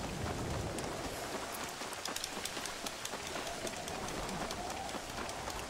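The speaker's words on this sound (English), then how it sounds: "Alright, we're gonna be doing this in the rain." Steady rain falls in the Western video game Red Dead Redemption, a dense, continuous hiss of drops pattering on surfaces that stays even and close throughout, with no voices.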